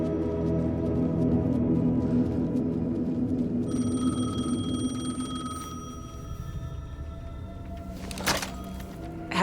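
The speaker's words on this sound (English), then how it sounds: "payphone was ringing." A payphone in the game Alan Wake 2 rings with a sustained electronic bell tone that joins a low ambient drone partway through, ending with a sharp clunk.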